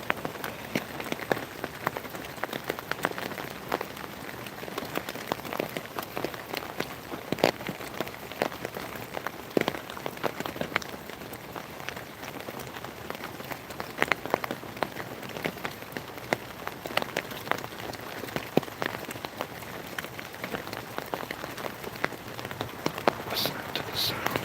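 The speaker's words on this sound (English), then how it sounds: "Listen to the sound of the rain." Rain falls steadily in a North Carolina rainstorm, with a continuous soft hiss of drops pattering on surfaces and scattered sharper ticks of nearby drops, fairly quiet and even throughout.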